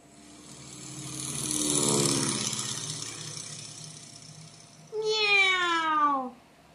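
A cat meows, a drawn-out rising and falling cry near the end, clear and fairly close, preceded by a softer, murmuring vocal sound with a faint engine-like hum in the background.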